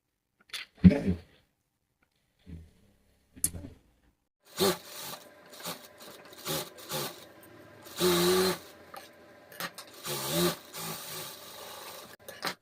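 A sewing machine top stitching the seam of a dress, running in short bursts of whirring stitches with pauses and handling noises between them, close and fairly quiet, with no voices.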